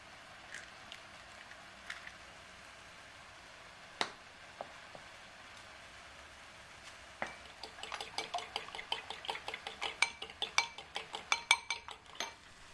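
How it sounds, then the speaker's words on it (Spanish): Two eggs are cracked into a bowl and beaten, a few isolated taps at first, then a quick run of rhythmic clinks from a utensil whisking against the bowl, close and moderately loud. "En un bol cascamos un par de huevos, salpimentamos y los batimos."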